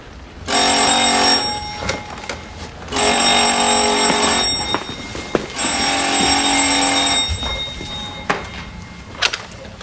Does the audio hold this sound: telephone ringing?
yes